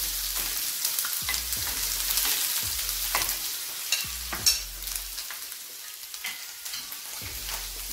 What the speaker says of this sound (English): Then we add our chili. Put our garlic.